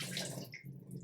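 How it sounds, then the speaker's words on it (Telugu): Water is poured over washed rice left to soak for making burelu, a brief close splashing and gurgling pour heard alone. "ఇట్లా కడుక్కొని వాటర్ పోసి పెడతా"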